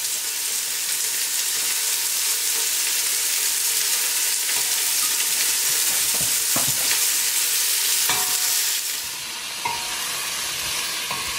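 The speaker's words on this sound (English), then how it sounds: "Get that fried and browning. Ooh, I hear a crackling." A chilli, leek and garlic mixture fries steadily in a pan for a vegan curry, with continuous close sizzling and crackling, occasional stirring clicks and a slight drop in intensity near the end.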